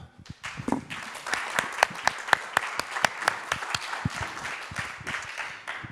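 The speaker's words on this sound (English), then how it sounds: "Merci beaucoup, Éric, qu'on peut applaudir." Scattered applause from a conference audience after a presentation, a modest number of distinct claps building quickly then tapering off.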